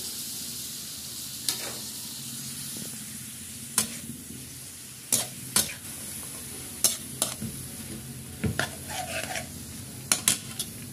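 Fresh string beans tossed into a hot pan for stir-frying, sizzling steadily with sharp, intermittent scrapes and clatters of a utensil stirring against the pan, close and without talk.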